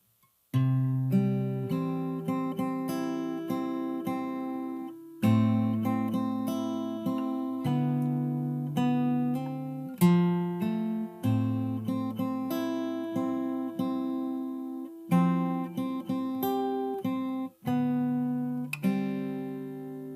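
Fingerstyle acoustic guitar plays a pre-chorus passage, plucked notes and chords ringing out clearly in a steady rhythm with bass notes under the melody, alone with no voices.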